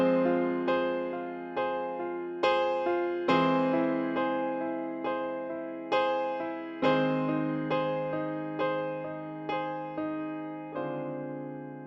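Solo piano playing the outro of a song, a clear, close series of sustained chords struck in a slow, regular rhythm, each ringing out before the next, with no voices.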